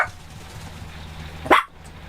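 A dog at a motor home on the road barks once sharply at another dog, close and loud, after a faint short yip at the start, over low background hum.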